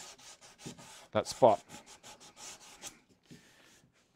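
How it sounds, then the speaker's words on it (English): Repeated rasping strokes of 120-grit sandpaper rubbing on a plywood end panel, close by, with a brief spoken phrase in the middle. "At the moment, I'm just sanding."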